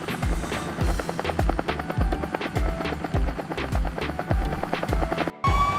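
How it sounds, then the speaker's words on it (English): A helicopter's rotor thumps in a fast, steady rhythm, loud and close, with a whining engine tone layered on top. "This is a helicopter"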